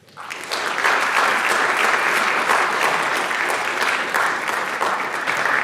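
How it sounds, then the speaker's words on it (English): A room full of people clapping, steady and sustained applause that swells quickly and continues evenly without any voices standing out. "Please join me in thanking them with a round of applause."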